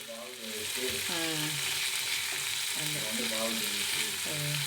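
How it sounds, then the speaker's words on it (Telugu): Brinjal and tomato pieces cook in hot oil on a stove, a steady broad sizzle close by, with a voice sounding faintly beneath it. "చూడండి అన్నీ కోసి పొయ్యి మీద వేస్తానండి, నూనెలో మగ్గనిస్తానండి"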